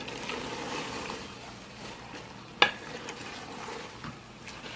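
Mixed vegetables with cauliflower are stirred in a cooking pot over a steady low sizzle, with one sharp clink of the spoon against the pot partway through.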